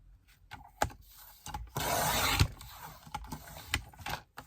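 A sheet of scrapbooking paper cut for a 3D owl card, a short rasping slide of a blade through paper at close range, set among a few quiet taps and rustles, with no voice.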